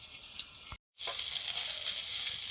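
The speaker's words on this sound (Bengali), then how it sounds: "ভাজার সময় ঢাকা দিয়ে দিয়ে ভাজতে হচ্ছে নাহলে চামড়াটা মোটা হয়ে গেছে তো প্রচুর ফাটছে তেলও ছিটকাচ্ছে" Large tangra fish fry in hot oil with a dense, bright sizzle and spattering crackle that cuts out sharply for a moment, then resumes at full strength, close and loud.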